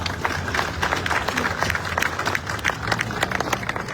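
Applause at a morning flag-raising ceremony at Manila city hall, a brisk crowd clapping with scattered sharp claps that holds steady throughout.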